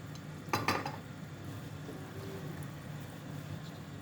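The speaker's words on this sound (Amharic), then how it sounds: "እንደዚህ አድርጌ አማስላለሁ" Butter chicken ingredients stirred in a pot with a spoon, a brief clatter of utensil against the pot early on, then a quiet steady scraping and swirling texture.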